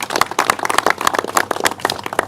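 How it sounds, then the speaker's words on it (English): An audience at a governor's event on Staten Island marking the Superstorm Sandy anniversary gives a round of applause, a lively burst of many hands clapping close and loud with uneven, crackling rhythm. "I'd like to give them a round of applause."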